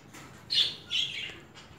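Budgerigars, a Hogoromo pair at a bird exhibition, give two bright, high chirps in quick succession, close and moderately loud over a quiet room background, with no speech.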